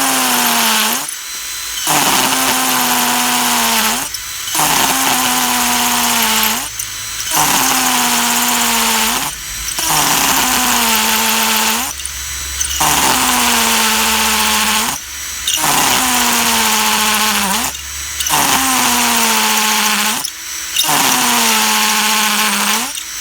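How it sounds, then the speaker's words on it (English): A loud Ferrex 14.4-volt cordless hammer drill grinds into brick in long bursts, stopping briefly about every two and a half seconds before starting again, with a harsh, buzzing whine throughout. "So it will drill into brick."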